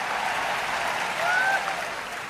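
Steady, dense applause from a crowd at a Hindi poetry gathering (kavi sammelan) in Kota, a continuous wash of clapping with a slight swell midway.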